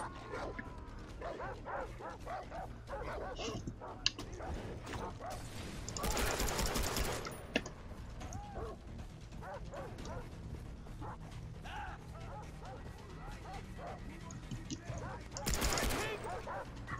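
A pack of dogs barks and yelps in Far Cry 3 amid gunfire and busy game noise, the barking continuous and fairly close, with talk now and then.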